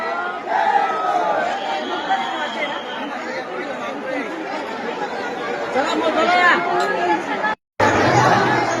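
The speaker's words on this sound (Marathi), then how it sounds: "जेजुरी गडावरती सर्व वारकऱ्यांनी दर्शनासाठी गर्दी केलेली आहे" A dense crowd of pilgrims gathered at Jejuri fort temple for darshan of Khandoba, a steady wash of many overlapping voices and chatter close around, continuous with a brief dropout near the end.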